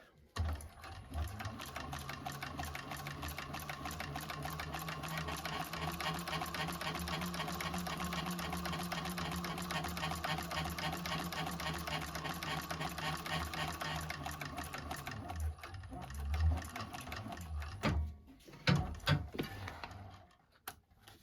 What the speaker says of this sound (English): we're going to do it at the seam allowance she has in the pattern, back stitching at the beginning and at the end